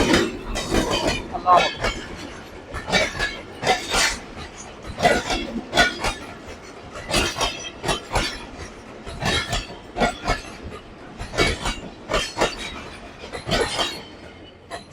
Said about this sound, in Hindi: हर 3 मिनट के बाद ट्रेन आती है और ये फास्ट ट्रेन है जो इसको स्लो हो गई है।